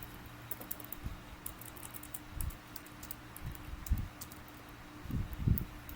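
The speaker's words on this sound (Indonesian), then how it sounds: "Setelah itu kita ketik data penjualan" Computer keyboard typing while entering sales data in RStudio, heard as faint, irregular key clicks in small clusters over a quiet background.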